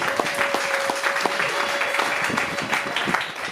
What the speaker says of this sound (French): Applaudissez quand même pour Jésus-Christ.